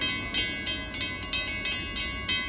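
A train passing at a road crossing in Willis, Michigan, heard as a steady rolling rumble with rhythmic clicking of wheels over rail joints, close and continuous throughout.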